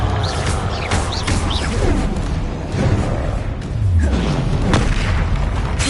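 In the Hogwarts Legacy video game, the Confringo spell sets off repeated booming explosions with crashing debris. The blasts run dense and continuous with no pause between them.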